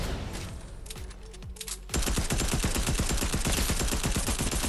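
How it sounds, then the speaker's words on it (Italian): Rapid automatic gunfire bursts out in a dense, loud volley in the video game Fortnite, after a quieter stretch with a few isolated shots. "No, lo sparo era vicino, lontano."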